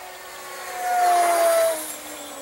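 A foamboard RC racer plane's electric motor at about half throttle gives a steady whine with a single tone that rises in level near the middle, then eases off at a moderate distance.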